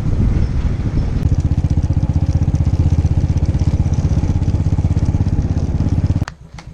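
A motorcycle engine idles steadily with a rapid, even pulsing thump, loud and close, running for about six seconds before cutting off abruptly near the end.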